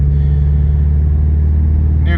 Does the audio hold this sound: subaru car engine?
yes